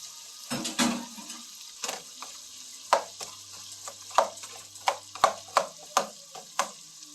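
Shrimp cooking in a pan with plenty of garlic while a utensil scrapes and stirs, giving a soft steady sizzle broken by a dozen sharp, evenly spaced knocks. No one speaks.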